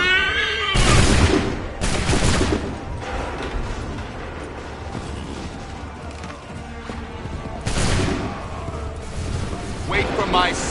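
Musket volleys in the Assassin's Creed 3 video game crack out as several loud, broad blasts: two close together early on, then two more near the end, each rolling away into a noisy battle din.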